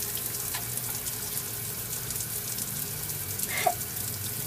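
Shower water runs steadily after swimming, a constant hiss and spray close by that fills the whole stretch, with a brief splash or clatter near the end and no talking.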